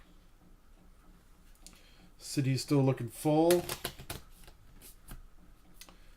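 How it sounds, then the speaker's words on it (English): A deck of game cards for a Marvel Legendary-style solo game is shuffled close up, a few quick riffling bursts in the middle, with someone talking briefly before and after. "I'm going to shuffle my deck up here quick."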